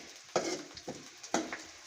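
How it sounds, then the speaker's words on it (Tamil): Sliced onions sauté in a pan: three quick stirring scrapes over a soft sizzle, fairly quiet and close, with no talking. "வெங்காயம் ஓரளவு வதங்கிடுச்சு"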